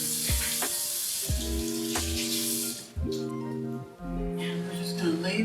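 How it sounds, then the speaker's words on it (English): Peppers and mushrooms frying in a pan for cactus tacos, a steady hiss of sizzling behind clinks and bumps of cookware, with a voice speaking over it in places. "waiting for our peppers and our mushrooms to kind of melt down"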